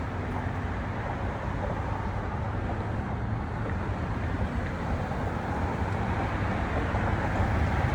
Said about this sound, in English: Let the cars pass.